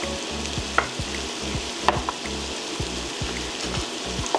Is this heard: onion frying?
yes